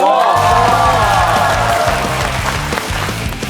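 Studio audience applause on the KBS quiz show Sponge: a dense, steady wash of clapping that fills the whole stretch, with a bright musical sting and a thumping beat playing over it.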